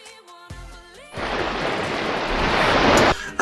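Water from a CIRRUS shower system gushes in a loud, steady hiss for about two seconds, preceded by a brief tonal sound and faint clatter, then cuts off abruptly.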